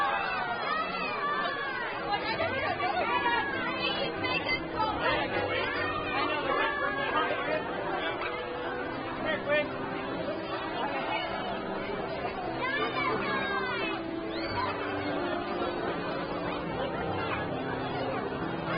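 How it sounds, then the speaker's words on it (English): Children yell and chatter excitedly within a crowd at a Christmas parade in Comox Valley, a steady dense babble of voices throughout, moderately distant. "You can hear kids yelling still about the dinosaurs."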